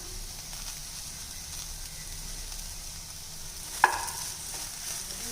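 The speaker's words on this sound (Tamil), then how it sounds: "புதினா சேர்த்து இது கொஞ்சம் வதங்கி வரட்டுங்க" Mint leaves sautéing with grated coconut in a pan for mint chutney give a soft, steady low sizzle throughout, broken once by a single sharp clink near the end.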